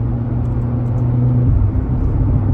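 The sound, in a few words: sports car engine while driving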